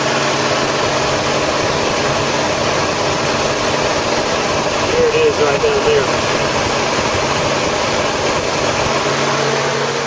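A 2001 Mazda MPV engine idles steadily with its radiator cooling fan whirring, a constant even drone throughout, while someone speaks briefly over it.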